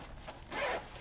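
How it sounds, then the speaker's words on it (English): A zipper is pulled open on a large strongman competition kit bag, one continuous rasping run that swells in the middle, close and clear with no talking. "let's find that zip"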